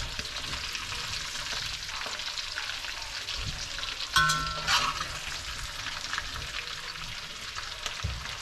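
Sausage browning in grease in a wok for a smoked chicken and sausage gumbo, a continuous close sizzle with scraping and stirring and a brief clatter in the middle.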